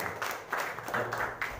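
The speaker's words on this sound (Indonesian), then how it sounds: "beri tepuk tangan buat Tuhan" Congregation applauding during a church worship service, a short burst of dense clapping with uneven swells, moderately loud and close, with a faint low hum underneath.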